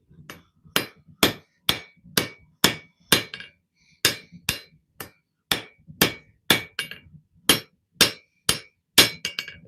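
Sharp metallic hammer blows ring out one after another in an uneven rhythm while forging in a shop, each strike loud and close with a brief ringing tail, and no talking.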